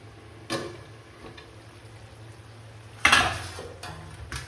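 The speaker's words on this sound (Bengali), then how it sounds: "অল্প অল্প করে মাংসটা ব্যাস চাপা দিয়ে হালকা হালকা করে তোমরা কষতে থাকো" Meat and curd being stir-fried in a pan over low flame, with a faint steady sizzle and two loud clattering scrapes of a spoon against the pan.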